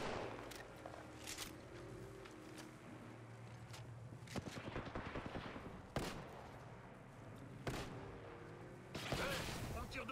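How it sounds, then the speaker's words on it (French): Gunfire in the Apex Legends battle royale game, bursts of rapid shots and several sharp louder cracks spread across the scene, with players talking over the action. "Hey, on tire dessus."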